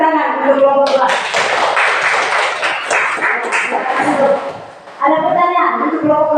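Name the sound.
applause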